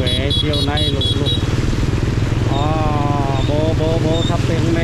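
Motorcycle engine running while riding through a flooded street in Huế, a steady close drone with wind buffeting the microphone and people talking over it throughout.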